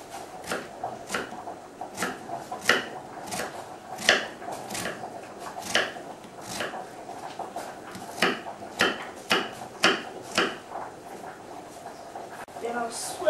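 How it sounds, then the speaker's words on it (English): A knife chops an onion on a board in a home kitchen, with a run of sharp, irregular cuts at close range. The cutting is fairly quiet and sits under light background noise. "First, we need to cut the onion."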